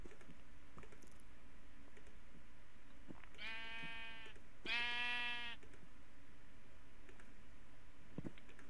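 Sheep in the video game Minecraft give two distinct bleats in quick succession, clear and moderately close, over faint background clicks like keyboard typing.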